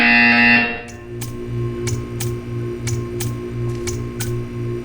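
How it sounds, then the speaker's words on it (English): A short, loud electronic tone from a buzzer in the video game Portal 2 gives way to a steady low buzzing hum pulsing in a regular rhythm, with sharp clicks landing at intervals above it. "You will hear a buzzer."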